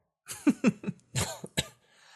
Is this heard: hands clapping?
no